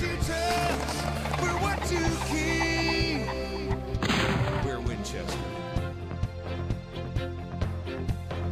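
A single shotgun blast rings out during a South Dakota double wingshooting bird hunt, a sharp burst partway through over steady background music.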